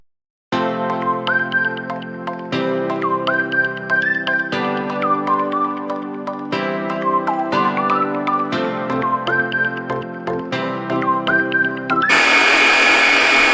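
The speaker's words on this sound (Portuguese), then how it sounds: "Então, essa batedeira planetária, você tem que sempre dar uma ajudinha aqui, porque ela não vai até o fundo do bolo." A planetary stand mixer beats cake batter for a plum wedding cake, running as a steady whirring motor in several separate bursts with short pauses between them, plus a brief louder burst at the end.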